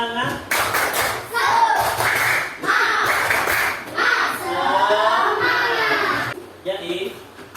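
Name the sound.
class doing a rhythmic 'tepuk semangat' clapping chant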